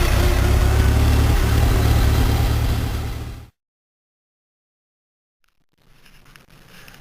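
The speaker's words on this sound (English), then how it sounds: "Once the engine starts, you push the choke back in and you're ready to go." A 1966 Cub Lowboy small tractor engine chugs loudly and steadily at close range, then cuts out abruptly to silence before faint background noise returns.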